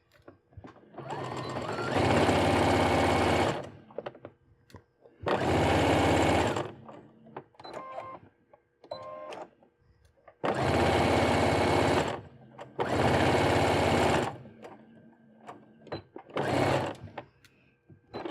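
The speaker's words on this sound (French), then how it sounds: "je vais coudre, alors mes oreilles, je ne vais coudre que la partie haute, pointue, et je laisse la base ouverte" A sewing machine stitching the pointed hood ears of a hooded scarf, running in several loud, close bursts of a few seconds each, separated by pauses with small clicks and handling sounds.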